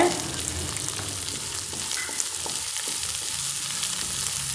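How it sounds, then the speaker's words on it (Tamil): Green chillies and curry leaves sautéing with vegetables in a pan for a Tamil mixed-vegetable poriyal, a steady close sizzle with light stirring scrapes and no talking. "நல்லா வதக்கிக்கோங்க இப்போ நாம் பச்சை மிளகாய் சேர்த்துடலாம் கூடவே நாம் கருவேப்பிலையும் சேர்த்துடலாங்க"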